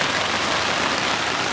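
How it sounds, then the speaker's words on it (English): Torrential rain pounds the roof of a Hymer motorhome in a steady, dense hiss and patter that stays loud and unbroken throughout. "I quite like the sound of rain in the van now."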